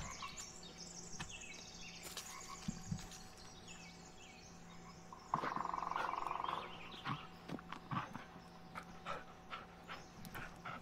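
A dog named Bullet in the Blair Witch video game, faint panting and soft animal noises against a quiet forest ambience, with a brief louder burst midway.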